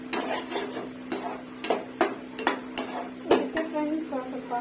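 Metal spoon scraping and clanking in a pan while egg fried rice is mixed with masala, a series of sharp irregular knocks over a steady low hum.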